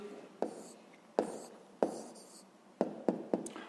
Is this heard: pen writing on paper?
yes